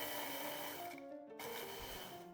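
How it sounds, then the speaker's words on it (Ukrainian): A blender whirs loudly and continuously, its motor briefly dropping out for a moment before roaring back as it grinds wafers into dry crumbs. "Вкладаю їх в чашу блендера та гарно взбиваю до однорідної крихти"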